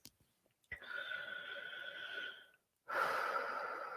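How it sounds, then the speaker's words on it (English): A slow, deep inhalation during a guided relaxation exercise, drawn in steadily for nearly two seconds, followed after a short gap by a long, airy exhale, close and clearly audible with no talking over it. "just go ahead and take a nice deep breath in and close your eyes"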